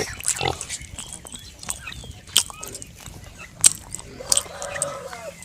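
A native pig lying down while it eats makes soft grunts and munching sounds close by, with sharp clicks and bursts of poultry and farmyard noise around it.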